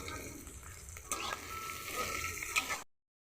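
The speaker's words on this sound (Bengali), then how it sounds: "প্রথমে আমি পেঁয়াজটাকে লাল লাল করে ভেজে নেবো" Onions frying in oil in a pan, browning for a home-style country chicken curry. A steady close sizzle runs with a few sharp clicks of stirring, then stops abruptly into silence.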